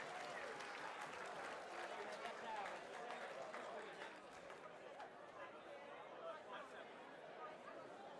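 Audience clapping at a charity race night auction, a sustained round of applause from a crowd that slowly tapers off, with faint chatter mixed in.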